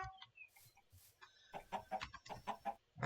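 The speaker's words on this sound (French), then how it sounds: "Là, on a des poules." Blocky Minecraft chickens cluck in short, close bursts, several quick clucks coming in clusters over a quiet game background.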